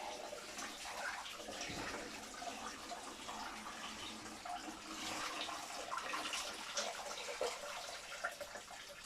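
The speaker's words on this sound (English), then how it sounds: "So I'm now going to take them off the boil and drain them." Boiling water poured off parboiled potatoes into a sink, a steady rushing splash of hot water that runs loud and continuous for the whole stretch with no talking.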